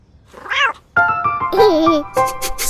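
A domestic cat meows, with one short rising-falling call followed by two longer, wavering meows close to the microphone, all in a quiet setting with no talk.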